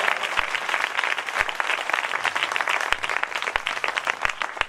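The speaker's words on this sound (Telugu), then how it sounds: "విశ్వసించిన వారందరూ చప్పట్లు కొడుతూ దేవుని మహిమపరచండి గట్టిగా" A church congregation applauding to praise God, a sustained roomful of clapping with scattered louder claps, steady and fairly close throughout.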